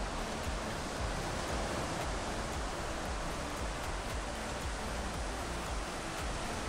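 Sea waves at Aare-Ware beach near Ganpatipule at sunset, a broad, steady roar of surf washing in, continuous and even with no distinct breaks or voices.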